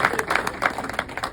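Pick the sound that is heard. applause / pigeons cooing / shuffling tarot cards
applause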